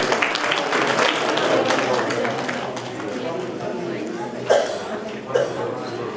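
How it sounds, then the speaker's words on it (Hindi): Audience applause at a women's award function in India, a clapping wash under a voice talking over it, thinning partway through, with a couple of brief louder bumps near the end. "आप तालियां बजा सकते हैं"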